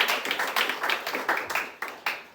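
Audience at a New York comedy club clapping for a contestant, loud, close applause with bursts of claps from a few people, no voices.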